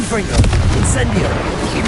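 Confringo and Incendio spell blasts in the Hogwarts Legacy video game, heavy explosive booms and fiery bursts crowding together in quick succession, loud and close.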